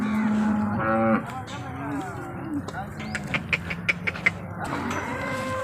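A second-lactation HF cow moos at the Loni cattle market, a drawn-out low call near the start and another toward the end, with clanking and people talking in between.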